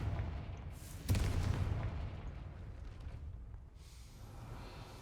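A Confringo fire-blast spell in a Harry Potter video game lands as a single heavy boom about a second in, then a rumbling decay that slowly fades, with no talking.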